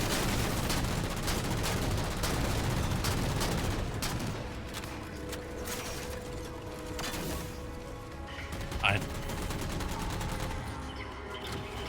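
Gunfire in Halo 4 co-op play on Legendary, dense rapid automatic bursts loud and close, thinning into scattered shots and mechanical clatter with a sharp impact near the end.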